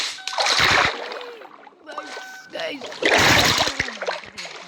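Two bursts of water splashing in a Minecraft swimming pool, loud and close, separated by quieter moments with a few brief tonal blips.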